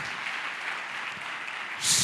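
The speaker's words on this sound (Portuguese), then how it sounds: "Se você crê nisso, aplauda, glorifique o nome de Jesus, amém?" A congregation applauding at a Brazilian youth church service, a short burst of steady, dense clapping that grows slightly louder at the end.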